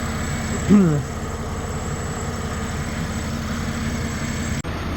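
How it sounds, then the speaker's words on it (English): Buick 3800 Series 1 engine idling warm with a steady low rumble, joined by a brief surge as the radiator fans kick on, then a constant whirring hum under faint talk. "Fans just kicked on, so we're fully warmed up"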